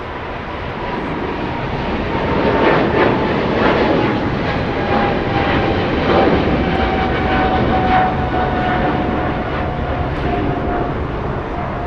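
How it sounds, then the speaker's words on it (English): Philippine Airlines Boeing 777 taking off at Los Angeles International for Manila: a loud, sustained jet roar that swells around the middle and holds steady, with a faint whine running through it, no voices. "Big 777, this one Philippine Airlines getting a move on,"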